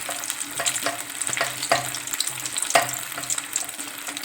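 Pieces of fish sizzling and crackling in hot oil, a steady frying hiss with scattered pops and occasional clinks close by.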